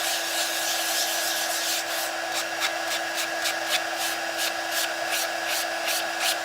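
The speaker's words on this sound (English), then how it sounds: "So just sand this one up." Wood is sanded by hand with a steady, even rasp, the rhythmic strokes growing clearer partway through and continuing at a close, constant level without speech.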